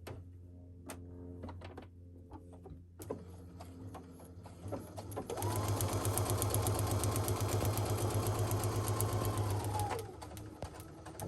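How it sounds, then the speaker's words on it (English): Sewing machine stitching a paper-pieced quilt block, running steadily for about five seconds with an even mechanical whir, preceded by quiet handling and clicks, faint and close. "I'm going to sew right on the line between A3 and A4."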